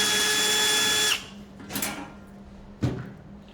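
An electric screwdriver backs out a screw from a PL92T espresso machine in one whirring burst of about a second, followed by a few sharp handling clunks.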